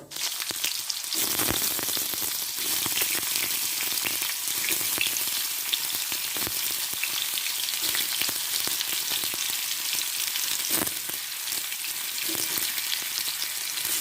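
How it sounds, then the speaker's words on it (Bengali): Potatoes fry in a pan for a Bengali drumstick mustard curry, a continuous dense sizzle heard close up, with occasional crackling pops and scrapes over the steady hiss. "এবার আমি আলুটা ছেড়ে দিচ্ছি।"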